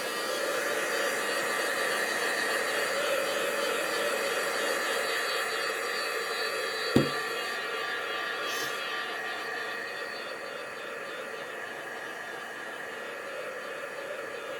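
A heat tool blows steadily to dry ink on a stamped craft project, a continuous close whooshing hiss that runs throughout, with one brief click partway through.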